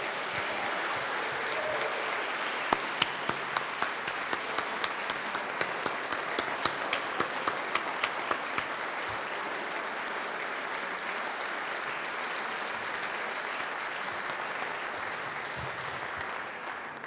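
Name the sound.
audience applause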